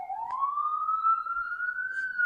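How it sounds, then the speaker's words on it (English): A single siren wail rising slowly in pitch, heard at moderate distance with no voices over it. "Yep, the siren."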